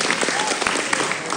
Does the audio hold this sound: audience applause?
yes